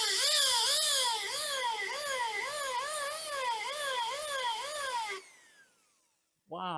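A power drill bores into the front beam of a VW Beetle with a dull, worn bit, giving a loud whine that rises and falls in a steady wavering pattern for about five seconds before cutting off.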